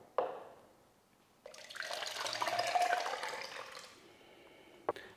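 Orange dessert mix poured into a container, heard as a continuous wet, splashing flow lasting a few seconds after a sharp knock, ending with another brief clack.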